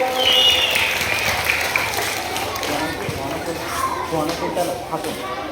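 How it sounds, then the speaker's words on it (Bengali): A crowd of hands clapping steadily for several seconds at a school Teachers' Day celebration, a dense even patter with a few voices mixed in. "খুব ভালো হয়েছে, হাততালি দাও সবাই।"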